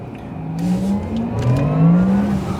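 A Porsche Taycan 4S electric car accelerates hard, its rising motor whine climbing steadily in pitch over a loud, continuous road rumble, heard close from inside with no talking.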